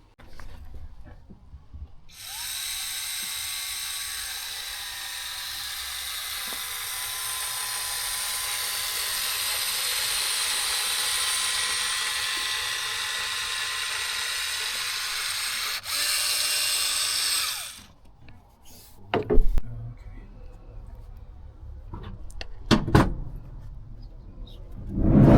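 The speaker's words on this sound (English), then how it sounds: "Yeah, I might stick a self-tapper in there." A power drill whines steadily for about fifteen seconds as it drives a self-tapping screw into a van floor, followed by a few short sharp knocks and clatters nearby.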